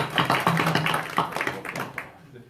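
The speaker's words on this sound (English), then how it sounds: "I'd like to ask for a round of applause for Chris Forehand and Panel Engineering." Brief round of applause from a small group at a county commission board meeting, scattered hand claps ringing in a room with voices mixed in, then fading out.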